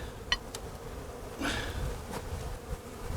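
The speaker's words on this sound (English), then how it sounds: "What do I see in here? I see a lot of bees." A dense, steady insect buzz from many honeybees in a hive in winter, with a few brief louder bursts and light knocks, fairly close and continuous throughout.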